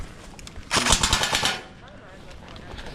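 Airsoft guns fire a rapid burst of about a dozen close, sharp shots lasting under a second during an outdoor skirmish, followed by quiet.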